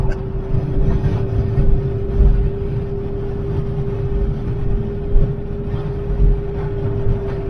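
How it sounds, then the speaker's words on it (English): A Jeep WJ engine drones inside a tunnel with a steady low rumble and a constant tone, with small surges of revving throughout. The sound is close and loud, and the enclosed space gives it a boxy echo. "One last rev in the tunnel."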